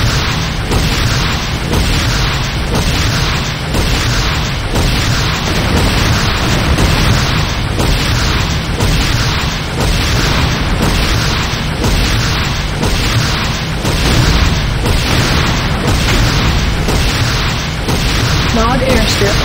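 Buildings explode in Command & Conquer Renegade as a GDI Weapons Factory is destroyed, a dense, loud series of repeated booms and bursts in rapid rhythm with an announcer voice in the mix.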